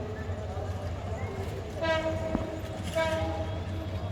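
Mohanganj Express, a Bangladesh Railway train, arrives with a loud low rumble and two blasts of its horn, heard close up over the continuous rolling noise of the cars.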